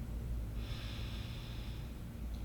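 A long, deep, even inhale through the nose during a yoga forward fold, soft and close, lasting just under two seconds over quiet room noise.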